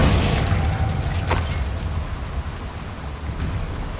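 A Confringo spell explodes in Hogwarts Legacy as a loud, sustained rumbling blast with a brief sharp crack near the middle, fading slowly under dense game noise.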